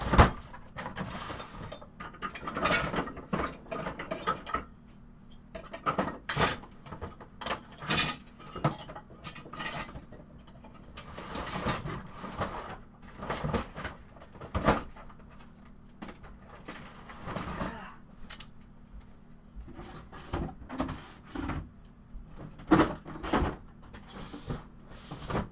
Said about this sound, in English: Give it one more look in this drawer